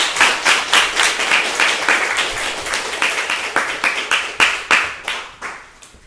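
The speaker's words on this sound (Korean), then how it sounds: "윤창열 교수님을 큰 박수로 맞이해 주시기 바랍니다." An audience welcomes Professor Yun Chang-yeol to a lecture on the Samil Singo of the Hwandan Gogi with bright, steady clapping that sustains in waves, then gradually thins and fades toward the end.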